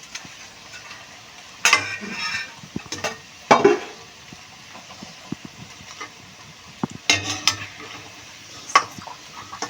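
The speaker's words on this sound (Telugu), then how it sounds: "ఇట్లా ఎర్రగా బ్రౌన్ కలర్ వచ్చేదాకా వేయించుకొని తీసుకోవాలి" Onion pakodi deep-frying in oil until brown, a constant bubbling sizzle broken by several loud scraping stirs and clinks of a spoon against the pan, close and fairly loud.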